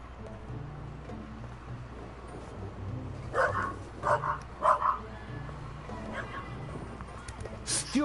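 A dog barks in a PS4 video game, a few short yips and barks in quick succession over a steady background hum, with a voice briefly present.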